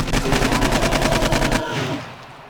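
An AK rifle fires in the video game 7 Days to Die: a fast, loud automatic burst of about fifteen shots in even rhythm that stops suddenly and leaves a short echoing decay.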